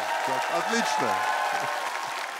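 A television studio audience keeps up steady applause as a voice speaks briefly over it.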